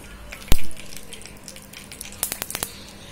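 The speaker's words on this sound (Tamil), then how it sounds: "நான் கடுகு போட்டு தாளிக்கிறேன்." Mustard seeds pop and splutter in hot oil, one sharp burst followed by a quick cluster of crackling pops close by, over faint sizzling.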